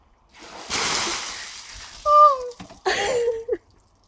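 A bucket of icy rainwater is poured over a person outdoors, giving a loud rushing splash. A short sharp gasp and a pained cry follow right after.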